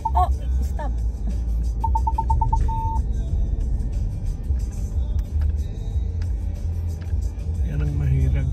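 Manual-transmission car driving, a steady low engine rumble heard from inside the cabin with a brief beeping tone early on while people talk.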